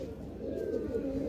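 Low pigeon cooing murmurs close by for a brief moment, soft and steady.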